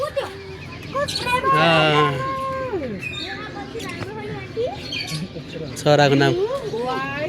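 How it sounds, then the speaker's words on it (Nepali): Lovebirds at a zoo give short, high chirps and calls that surface intermittently under steady nearby conversation from visitors. "यो लभ बर्ड रे लभ बर्ड प्रेम चरा"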